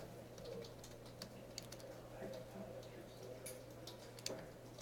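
Keystrokes on a computer keyboard as code is typed in a classroom lecture, soft irregular clicks spread through the clip over a steady low hum, with brief murmurs of talk in the room.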